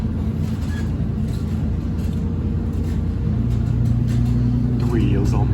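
A bus on a street in Lewisham rolls past close by with a deep, continuous engine rumble that grows a little louder toward the end.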